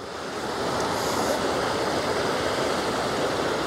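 Steady broadband rush of Fish Stream pouring over the old concrete dam ledge in Maine, a loud continuous roar with no talking.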